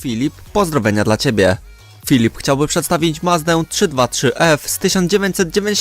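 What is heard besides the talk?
No distinct noise like a dog, phone or traffic.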